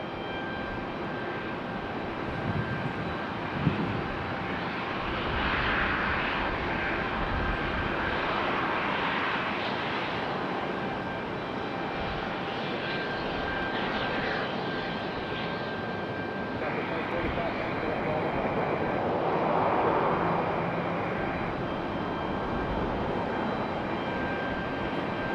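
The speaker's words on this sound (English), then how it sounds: "This one's American Airlines at 2693." An American Airlines Airbus A321-200 jet passes near Raleigh-Durham International Airport with a loud, sustained roar that swells and fades over about 25 seconds while people talk over it.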